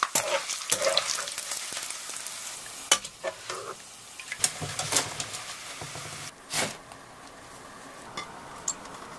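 Leftover dried rice frying in deep hot oil crackles and sizzles steadily, with scattered sharper pops and stirring clatter over a soft background hiss; no one speaks.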